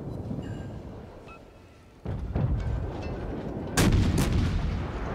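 A warship's 5-inch secondary guns firing in a naval combat video game: heavy booming blasts, two sharp reports over a dense rumbling low background of battle noise, loud and close.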